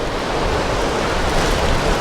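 Strong wind blows across a foggy mountain slope, a loud, dense, steady roar with no breaks and no voices.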